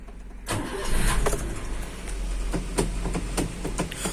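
A car engine cranks and catches at about half a second, then keeps running with a steady rumble and some clicks, heard up close after being started to warm it up.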